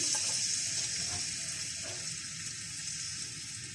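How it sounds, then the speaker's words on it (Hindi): Chopped garlic sizzling in a few tablespoons of hot oil in a pan, a close, steady hiss of frying that holds evenly with no talk over it. "मैंने पैन के अंदर थोड़ा सा ऑयल डाला है, तकरीबन 3 से 4 टेबल स्पून। इसके अंदर मैं चॉप्ड गार्लिक डालूंगी"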